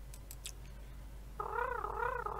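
Synthetic kitten meows from the cat simulator video game Mew Sim, a run of wavering, repeated mewing calls that starts after a quiet stretch with faint clicks, then continues steadily and fairly clearly over low background hum.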